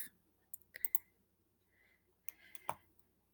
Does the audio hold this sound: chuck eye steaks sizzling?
no